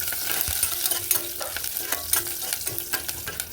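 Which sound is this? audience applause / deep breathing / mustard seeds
mustard seeds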